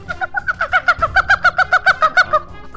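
Repeated clucking from a chicken in a Roblox game, about a dozen quick, evenly spaced clucks in a steady rhythm, close and clear with no talking.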